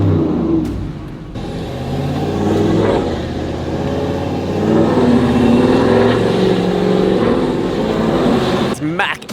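A brand-new Landcruiser stuck in soft Simpson Desert sand, its engine droning and revving loudly and continuously for several seconds, close, with voices speaking over it.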